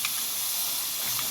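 Steam hisses out as pressure is released from a pressure cooker of khichdi, a short, steady, fairly faint rush of air.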